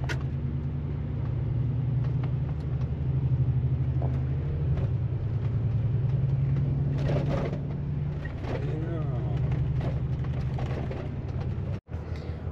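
A car rolls across a dam on a road trip, a steady low engine and road rumble throughout with a brief dropout near the end.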